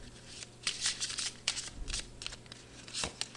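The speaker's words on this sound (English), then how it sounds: "Now I'm going to pull some oracle cards here." Oracle cards being shuffled by hand, a run of crisp riffling and sliding bursts of card stock, close and fairly quiet, with short pauses between flurries and no talking.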